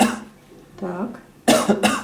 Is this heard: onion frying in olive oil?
no